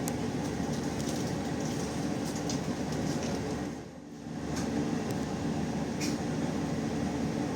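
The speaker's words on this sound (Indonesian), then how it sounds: "Pukul 19:28 kereta api Jaka Tingkir tiba di stasiun Klaten." Jaka Tingkir economy passenger train pulling into Klaten station, a steady loud rumble of wheels and carriage noise with faint clicks, briefly dipping midway before resuming, no voices.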